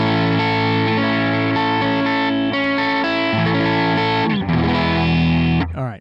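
Electric guitar on a humbucker in the neck position, played through an RP1000 effects processor: a sustained, dense distorted chord tone ringing loud and steady for about six seconds, shifting once, then cut off.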